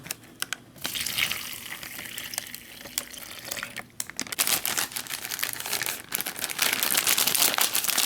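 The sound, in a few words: pouring water into plastic bag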